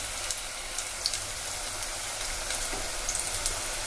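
Onion fritters (piyaji) deep fry in hot oil, making a steady, fairly quiet bubbling sizzle with scattered faint crackles and no voices.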